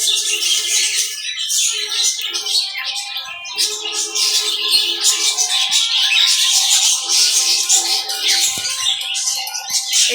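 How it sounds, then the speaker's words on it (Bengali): Many cockatiels in an aviary bird room calling at once, a dense, continuous chorus of bright chirps and whistles, close and loud, with other cage birds mixed in. "ককাটেল আছে"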